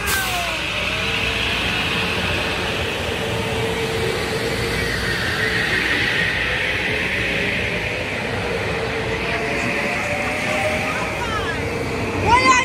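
A Metro-North train passes in Fairfield, Connecticut, a continuous rumbling roar with rail noise that holds steady and fairly loud for the whole stretch, with no talk over it.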